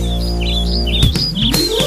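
Bright bird chirps and tweets flutter repeatedly over the steady music of a children's song, with the warbling calls sitting high and clear above the backing track.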